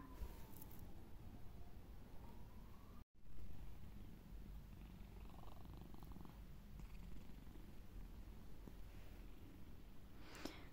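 A domestic cat purrs steadily and softly up close while lying in its bed, a low continuous rumble with a brief dropout partway through.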